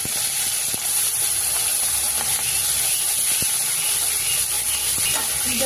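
Fresh bata fish frying in hot oil, a continuous loud hiss and sizzle throughout with occasional small clicks and pops, no voices.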